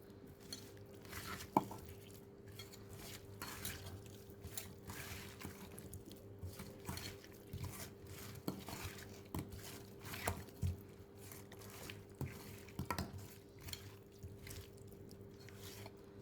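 Hilsa fish being worked by hand with spice paste and mustard oil, a soft, steady squelching and wet smearing with occasional sharper clicks, close and quiet, with no voices.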